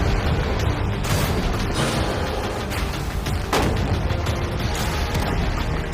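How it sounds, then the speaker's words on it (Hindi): Gunshots fired at a container holding money, heard as several sharp, loud bangs spaced a second or two apart over a dense, continuous wash of noise. "पहले बाकी शॉट्स फायर कर लेते हैं।"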